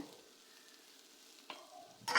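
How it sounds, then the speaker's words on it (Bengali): Onions and chillies fry in a little oil in a frying pan, a faint low sizzle that swells briefly with a couple of sharp stirring scrapes near the end, with no one speaking. "পেঁয়াজগুলো ধুয়ে ভালো করে একটু হালকা তেল দিলাম ফ্রাই প্যানে, দিয়ে ভালো করে ভেজে নিচ্ছি।"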